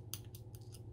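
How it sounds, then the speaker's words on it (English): Paper being poked out of a vintage slide cut with a Big Shot die-cutting machine, giving five short crisp rustling snips at a steady rhythm, close and fairly quiet over a low steady hum. "Just poking this paper out"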